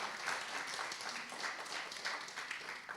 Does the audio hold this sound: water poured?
no